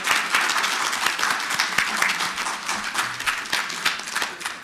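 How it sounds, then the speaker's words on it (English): A seminar audience bursts into applause, a dense, even wash of many hands clapping throughout with a few sharper individual claps standing out. "Please stand and please give them an applause for."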